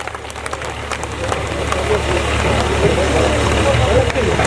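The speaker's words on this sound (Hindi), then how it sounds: "जोरदार तालियां इनके लिए" A dense, steady wash of audience applause fills a religious gathering at a Bhagwat Katha with a mass wedding of girls, loud and sustained throughout with a low hum beneath.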